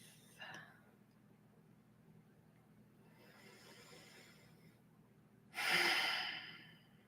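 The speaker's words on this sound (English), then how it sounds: "Just breathing here a few moments." During a guided meditation, quiet, slow breaths are drawn in and let out, with soft airy inhales and a louder, breathy exhale near the end, all close and faint against a low background hum.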